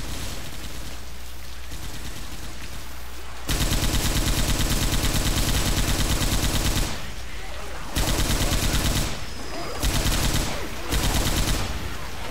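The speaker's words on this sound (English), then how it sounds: "An explosion. Someone shot a canister." An M60 machine gun fires in a video game, in several sustained rattling bursts separated by short pauses, over a steady background hiss like falling rain.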